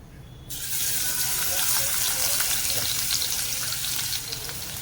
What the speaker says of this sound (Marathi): तेल तापलेलं आहे तर यात आपण लसूण घालून घेऊ